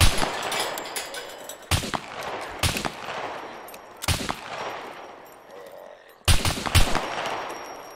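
Video game gunfire bursts out in several loud, sharp volleys with brief lulls between them, the shots clustered in rapid runs that echo against an ambient background.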